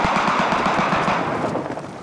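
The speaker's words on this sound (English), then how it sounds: "With covering fire from the high ground, Bertie leads his troops forward" Covering gunfire from the high ground during military commando training, a dense loud rattle of rapid shots that rolls on continuously and then fades slightly at the end.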